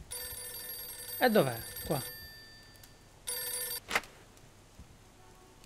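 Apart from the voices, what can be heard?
telephone ringing in the video game Mafia 2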